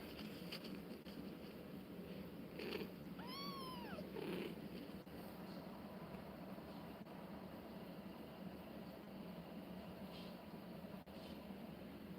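A little kitten gives a few faint, rising meows in a short cluster, distant and quiet over a steady background hum, then falls silent.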